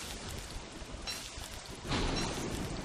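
Steady rain hisses across the tropical island of Don't Starve Shipwrecked, a dense wash of drops that swells louder near the end, with a faint rumble of thunder beneath.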